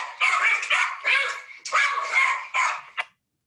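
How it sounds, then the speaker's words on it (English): A pack of hounds bays in a radio drama, several loud overlapping wavering howls in close succession, ending abruptly in silence. "At daybreak, I was awakened by a distant sound, faint wavering, the baying of a pack of hounds."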